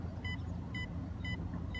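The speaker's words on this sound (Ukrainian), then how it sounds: "Пульт нам сигналізує, пікає, що він вже зброс зробив на точці." Three short, high electronic beeps at an even pace from the remote control of a CAMRAD 800 fishing bait boat with a Falcon 5010 motor, sounding over a steady low engine rumble.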